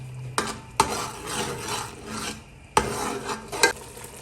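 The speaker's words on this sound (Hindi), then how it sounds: "इसको हम अच्छे से मिक्स कर लेंगे।" A spoon stirring and scraping chili powder and spices through a pot of bong paye curry, with a few sharp scrapes standing out from a softer rasping rub. The sound is close and clear, with no voices.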